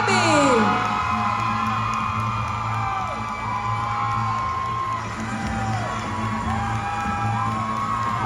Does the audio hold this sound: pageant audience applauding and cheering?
yes